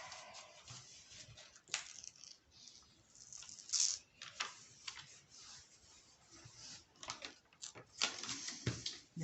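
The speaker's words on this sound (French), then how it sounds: "Le papier se déchire." Paper tearing in several uneven rips and rustles, fairly quiet and close, with soft scraping between pulls.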